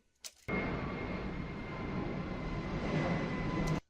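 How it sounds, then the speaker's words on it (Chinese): Airplane flying overhead: a steady, loud broadband engine roar with a faint whine. It starts abruptly, holds evenly for several seconds, then stops. "然后我们就点选飞机飞过的声音。"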